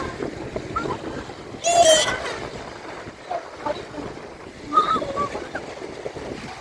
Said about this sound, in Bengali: পাশ দিয়ে বিশাল সেই কৃষ্ণ সাগরের ঢেউ